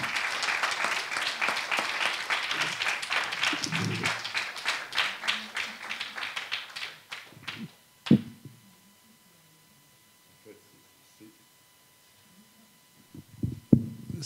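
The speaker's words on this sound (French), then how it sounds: "C'est le début de l'année, c'est pour ça qu'ils applaudissent aussi fort." A talk audience claps loudly and steadily, dense applause that gradually thins into scattered claps and fades out around the midpoint, followed by near silence with a few soft handling noises.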